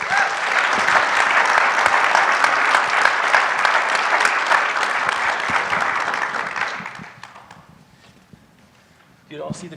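Loud, dense applause from a lecture-hall audience welcoming three guests, sustained for several seconds before tapering off, with a brief burst of voice near the end.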